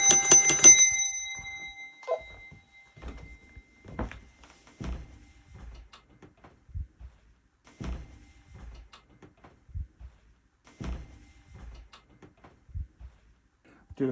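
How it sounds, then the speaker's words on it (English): A hand bell rings in a brief bright burst at the start of a house blessing, then fades into scattered soft knocks and shuffling movement with quiet gaps. "Do a spot bell ringing as well while I'm here."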